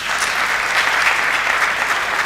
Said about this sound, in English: They deserve a round applause